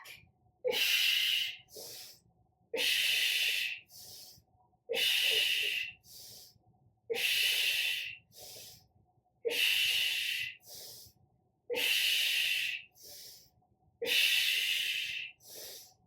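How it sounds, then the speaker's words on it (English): Heavy rhythmic breathing during a bodyweight plank hold in a women's workout, seven strong hissing exhales in a steady cycle, each followed by a short sharp breath, close and loud with no talking. "Breathing and done."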